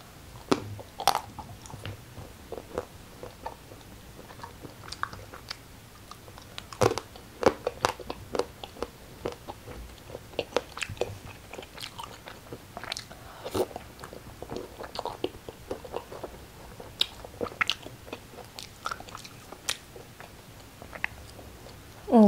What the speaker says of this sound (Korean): 오늘 먹을 것은 베스킨라빈스 케이크입니다